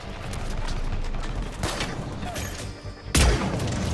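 Gunfire in the shooter video game Mass Effect 3, a dense fusillade of rapid shots over several seconds, ending in one heavy loud boom.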